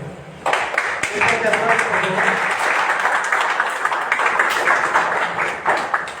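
A crowd at a May Day march of victims' families breaks into loud, sustained applause and cheering outdoors, with voices mixed into the dense clapping.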